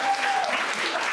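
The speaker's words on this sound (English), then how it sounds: "big round of applause for everybody" An audience at a tech summit gives a round of applause, a dense, steady wash of many hands clapping at once, loud and continuous for the brief moment, with no talking over it.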